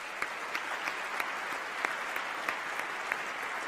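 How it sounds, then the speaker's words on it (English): Sustained audience applause fills a council inauguration ceremony, a steady wash of many hands clapping at even strength throughout, with a few sharper claps standing out near the front. "that deserves a round of applause too"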